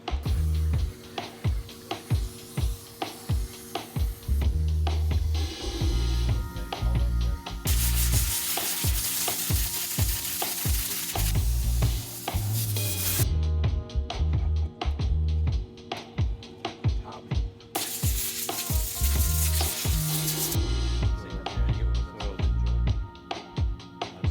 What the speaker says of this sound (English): So a well set up MIG is going to do the job.